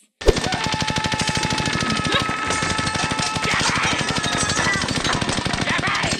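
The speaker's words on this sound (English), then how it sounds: "he has a machine gun now and just like shoots" Sustained rapid machine-gun fire from a scene of the TV show Community, loud and close with a dense, steady rhythm of shots running without pause from start to end, a few crashes and faint voices mixed underneath.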